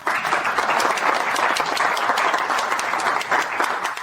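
Audience applause for a team at a business presentation: a steady, dense wash of clapping from a sizeable crowd, sustained at even loudness throughout with no break.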